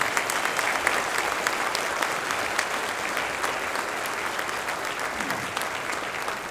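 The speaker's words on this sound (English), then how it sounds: "Let's give them a round of applause." Sustained applause from a large crowd for the Irving Police Honor Guard fills the room at an even level, with individual claps standing out throughout.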